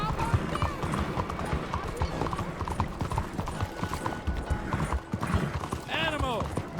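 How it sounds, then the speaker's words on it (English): Horse hooves clop in a fast rhythmic gallop in Red Dead Redemption 2, close and steady under a rider's shouting, with a brief whinny near the end. "Arre, caballo!"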